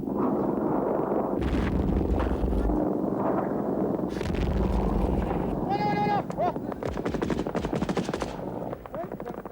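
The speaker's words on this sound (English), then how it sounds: "lay down covering fire" Gunfire from Soviet troops dug in at a village edge in the Afghan war, laying down covering fire: dense rapid automatic bursts and heavy reports, loud and continuous, mixed with shouting voices and a high bleating-like cry.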